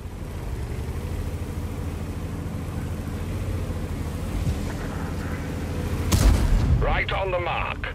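Tank cannon fire in the World of Tanks game, a heavy sustained rumble with one loud booming shot and a sharp metallic ringing decay near the end, without speech.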